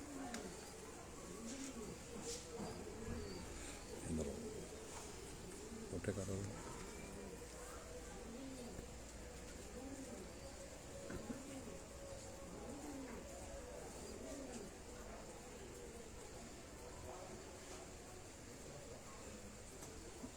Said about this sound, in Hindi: अब ये दोस्तों ये सियालकोट से आया हुआ कबूतर है